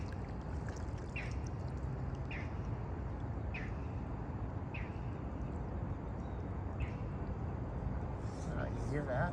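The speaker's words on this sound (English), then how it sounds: "You hear that? What kind of bird was that?" A bird calls out over a quiet lake, repeating short high chirps at a steady pace at moderate distance above a constant wash of water and wind noise.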